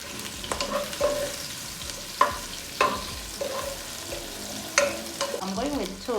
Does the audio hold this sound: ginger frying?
yes